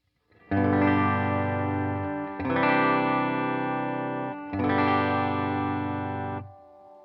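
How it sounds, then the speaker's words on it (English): Three sustained electric guitar chords from a Yamaha Revstar on the bridge pickup, clean tone with a little reverb, ring out one after another, each bright and left to decay into a soft reverb tail. "on the bridge pickup, clean tones, a little bit of reverb."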